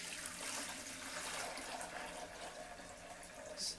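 Water at room temperature pours steadily into a splash pool during cleaning of a dust fall column, a faint continuous running and splashing stream without pauses.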